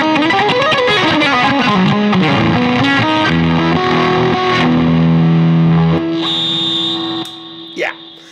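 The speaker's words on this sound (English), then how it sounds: "let me play you the Fuzz" A fuzzy, heavily distorted electric guitar through a fuzz pedal plays a bending riff and then sustained chords, ending in a high buzzing feedback tone and a short scrape.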